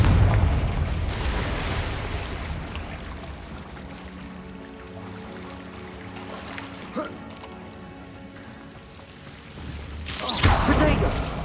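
A Confringo spell explosion in the Hogwarts Legacy video game, a fiery blast with a rumbling low boom and a sharp burst near the end, set over game background tones.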